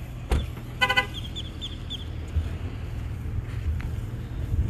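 Car horn toots at a ham radio hamfest in Orlando, Florida, a couple of short honks early on over a steady low vehicle rumble and outdoor background noise.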